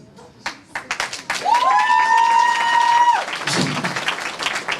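Gala audience at an awards event honouring young graduates applauds. A few sharp scattered claps swell into sustained clapping, with a long rising whistle cutting through the middle.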